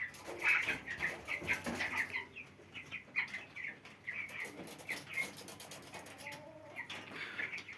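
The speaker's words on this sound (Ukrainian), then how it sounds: "Давайте ще вам трішки покажу курчаток." Broiler chicks in a poultry house raised without antibiotics, a dense flock chirping and peeping continuously at moderate level, with high cheeps overlapping throughout and no speech.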